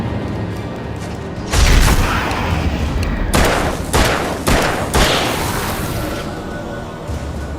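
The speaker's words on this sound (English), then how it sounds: "That's a flashbang." Flashbang going off in the Alan Wake video game, a loud burst that is followed by several heavy, booming hits and a ringing rumble that fades, with no talk over it.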